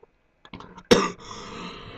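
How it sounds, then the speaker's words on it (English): A man gives a single harsh cough after a few small throat noises, close and loud, followed by a brief lingering rasp. "sorry about the cough"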